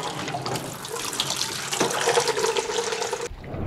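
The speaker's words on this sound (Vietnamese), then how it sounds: "các bạn cứ để vòi nước này" Tap water pours steadily into the drum of a top-loading washing machine being cleaned, a close, continuous splashing rush that cuts off abruptly just before the end.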